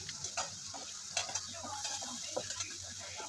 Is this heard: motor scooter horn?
no